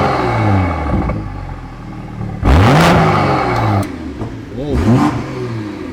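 BMW M240 engine revving with its exhaust flap open, loud nearby blips that sweep up and fall away in repeated bursts, one especially sharp and raspy, with a short exclaimed word between revs.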